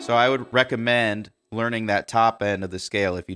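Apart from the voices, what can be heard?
No everyday noise stands out behind the speech.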